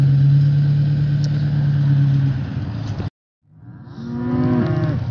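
A low engine idles steadily, then cuts off; after a brief silence a cow lets out a long, loud moo nearby.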